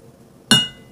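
Glasses clink together once for a toast, a sharp bright chime that rings out briefly and fades, close and alone with no talking.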